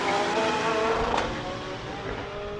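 A Lotus Exige race car launches at a hill climb event, its engine a loud, close, sustained roar that drops slightly in level as it pulls away.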